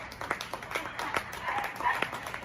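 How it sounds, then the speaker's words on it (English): New York City residents clap and cheer from balconies and windows, scattered claps sounding from a distance under a person talking. "you can hear the sounds of people cheering, clapping, whistling, and even banging wooden spoons on metal pots"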